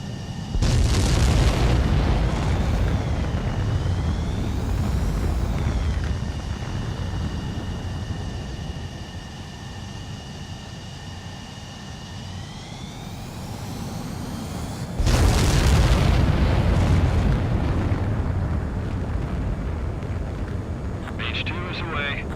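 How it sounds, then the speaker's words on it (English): Jet aircraft launch in the Ace Combat 7 video game, a loud roaring engine blast and whoosh that fades, then a second powerful surge of jet thrust, with radio voices talking over it. "H2, begin takeoff sequence."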